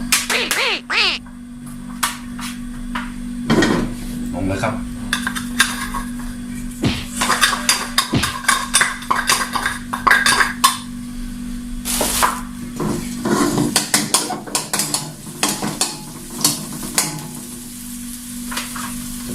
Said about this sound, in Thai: เดี๋ยวเราใส่น้ำมันลงไปครับนี่นะครับ แล้วเราลงกระเทียมลงไปครับ กระเทียม ตะไคร้ใบมะกรูดนะครับผัดลงไปก่อน